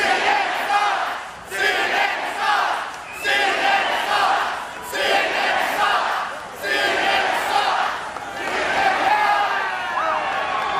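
A huge rally crowd in Albuquerque roars and cheers in loud, sustained surges, swelling and dipping in waves with brief lulls between bursts of shouting and whooping.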